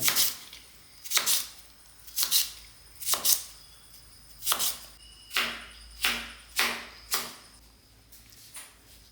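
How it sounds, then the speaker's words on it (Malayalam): Crisp knife chops on a cutting board as cucumber is cut into small pieces, about ten evenly spaced strokes with brief pauses, close and clear. "വെള്ളരിക്ക അതുപോലെ നമുക്ക് ചെറുതാക്കിയിട്ട് തന്നെ ഇടാം"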